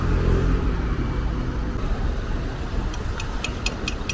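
A 2007 car's engine idles steadily with a low rumble and faint whir from the running belt, and a few sharp clicks near the end.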